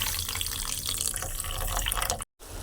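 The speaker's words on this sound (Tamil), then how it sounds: "அதே அளவுக்கு தண்ணி ஆட் பண்ணிக்கலாம்." Water pours steadily into a container of sugar to make kunafa syrup, a continuous close trickling stream that cuts off abruptly near the end.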